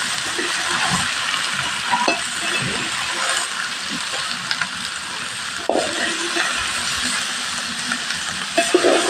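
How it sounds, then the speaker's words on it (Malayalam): Three kilos of onions and chicken curry for biryani being stirred in a large pot, a steady sizzling hiss with scraping strokes and occasional clinks of the ladle against metal, continuous and close. "നമ്മൾ നല്ലപോലെ ഇളക്കി കൊടുക്കുക"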